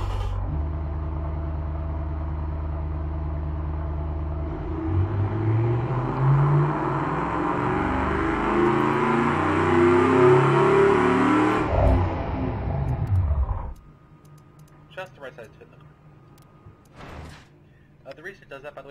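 A 1974 sports car engine with twin 2-inch exhaust making 328 horsepower, in the Automation car-building game, idles loudly, then revs in a long climbing whine before cutting off abruptly, leaving faint scattered sounds.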